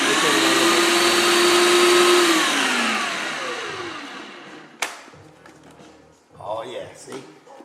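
A blender mixing cheesecake batter runs loud and steady with a whining motor pitch that drops and winds down, followed by a sharp clack and quieter handling sounds while a person talks.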